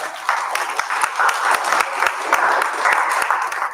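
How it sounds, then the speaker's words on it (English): Steady audience applause at a sobriety celebration, a dense continuous patter of many hands clapping that holds at a fairly loud, even level throughout, with faint voices mixed in. "I give her another round of applause."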